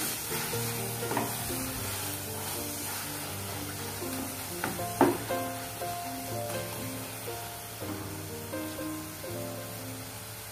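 Spinach and dal curry (palak sabzi) being stirred in a pan, with a steady sizzle and soft scraping strokes, plus a brief clink midway, under light background music.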